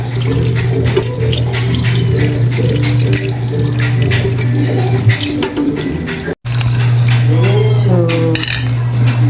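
Milkfish washed by hand under a running tap in a sink, a steady loud rush of water with splashing and clinking of dishes, one brief cutoff near the end.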